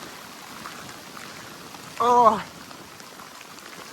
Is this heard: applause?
no